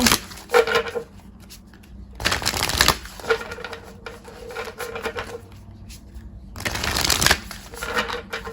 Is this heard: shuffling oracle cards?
yes